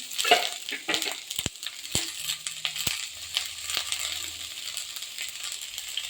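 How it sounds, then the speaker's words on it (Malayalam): Sliced onions go into hot oil with cardamom and other spices for a chicken dish, giving a steady sizzle and hiss close by, with a few sharp clinks and scrapes of a utensil stirring the pan. "ഏലക്കായൊക്കെ നന്നായി ചൂടായപ്പോൾ നമുക്ക് ചെറുതായി എണ്ണയൊക്കെ സവാള ചേർത്ത് കൊടുക്കാം"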